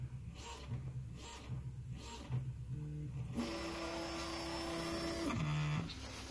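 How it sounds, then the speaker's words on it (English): A 3D printer lays an initial bead and then an outer circle, its stepper motors whining in shifting tones over a steady fan hum, close and fairly quiet. "It seems to be printing a initial bead just to get the head working, and now it's printing an outer circle."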